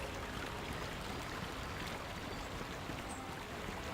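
Flowing water in Star Wars Knights of the Old Republic: a faint, steady rushing wash like a stream, running evenly throughout with no breaks.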